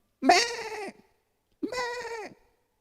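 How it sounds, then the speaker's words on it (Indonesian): A frightened goat gives two separate bleats, each sharp at the onset and then quavering, loud and near, with a clear pause between them and silence around them. "Tapi ketika kambing merasakan ketakutan dalam ancaman berubah embikannya."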